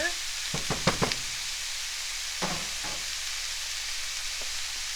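Ground beef sizzles steadily in a hot pan, a broad hiss throughout with a few clacks and scrapes of a utensil early on, close and without talk.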